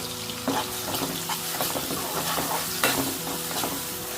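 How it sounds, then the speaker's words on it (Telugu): Green chillies fry in hot oil for a mutton and drumstick curry, giving a steady close sizzle broken by several scraping stirs of a spatula against the pan, with no talking. "అట్లాగే పచ్చిమిరపకాయలు కూడా వేసేసుకున్నాము చక్కగా నూనెలో వేగాలండి"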